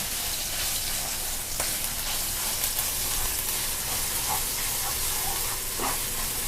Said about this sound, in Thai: ผัดพริกแกงก่อนนะคะ